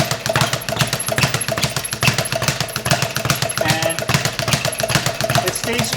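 Rapid, steady rhythmic pummeling of an Everlast 1910 leather speed bag, a dense train of close, punchy thumps and rebounds rattling against the platform with no pauses across the clip.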